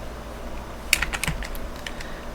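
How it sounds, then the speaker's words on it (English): Typing on a computer keyboard comes through as a quick cluster of close, crisp key clicks in an irregular rhythm over a quiet room hum, with no talking. "we're going to type in B string shared lib"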